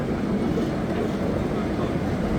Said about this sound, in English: I do just ask that everyone remain seated until the train has come to a full and complete stop.